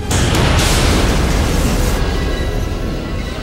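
A torpedo strikes a starship in a space battle from the 1999 film Wing Commander, setting off a loud, sustained explosive roar that fills the whole stretch with dense rumbling and slowly eases toward the end.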